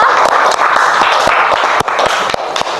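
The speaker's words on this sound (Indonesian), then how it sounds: "Kita beri tepuk tangan dulu untuk kita semua" Schoolroom applause from a class of students, loud and close, with brisk continuous clapping and a few sharper individual claps standing out through the burst.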